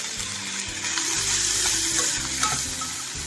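Tomatoes frying with softened onions in a pan for a raw cashew and mushroom curry gravy, giving a steady, close sizzle with stirring scrapes throughout and no talking.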